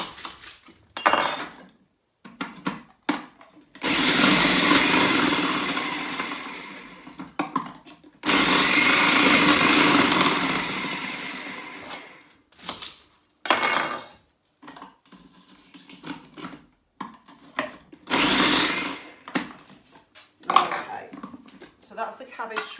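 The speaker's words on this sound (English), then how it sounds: "then we're going to start to shred our cabbage" Cabbage shredded in a kitchen for sauerkraut, heard as several loud bursts of machine whirring lasting a few seconds each, separated by pauses with clinks and clatter of dishes and utensils.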